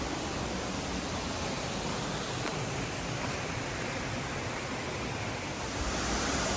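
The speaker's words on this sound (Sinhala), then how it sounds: "වතුර වැටෙනවා" Steady, loud roar of water pouring down at the Sera Ella waterfall near Riverston, Matale, spilling over large rock cliffs; a dense continuous rush fills the whole clip with no voices.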